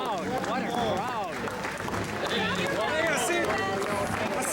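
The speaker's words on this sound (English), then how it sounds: "Wow, what a crowd." A dense, lively crowd greets Honor Flight veterans in Washington, D.C., cheering, calling out and clapping steadily throughout, with close voices chattering and shouting over the continuous roar.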